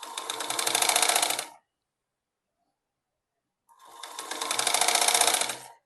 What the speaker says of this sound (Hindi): ऐसे करके सिलाई हम इसमें भी लगा देंगे